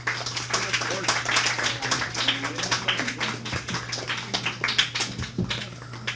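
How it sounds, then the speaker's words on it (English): Audience applause at a 2018 Spanish Latino heritage event, a dense run of sharp claps that stays fairly loud throughout, with voices mixed in and a steady low hum underneath. "I want to have a nice round of applause if they could come on up."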